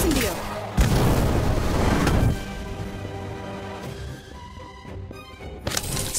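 Bomb spell explosions in the card-battle game Harry Potter Magic Awakened, a dense, loud booming burst over the first two seconds followed by quieter game effects and music, with a voice talking over it.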